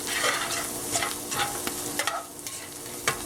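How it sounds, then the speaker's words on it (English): Garlic and smoked paprika frying in olive oil as a utensil stirs the pan, giving a steady sizzle broken by scraping strokes, close and alone without talk. "I'm going to add that garlic right in there. And then just stir that up in a second."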